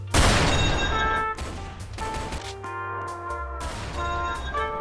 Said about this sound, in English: Mrs. Brookhaven is killed by a German sniper